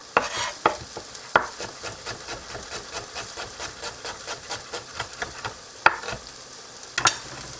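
A small thinly chopped onion and a burger patty frying together, a steady close crackling sizzle with rhythmic scraping stirs and a few sharper clicks throughout.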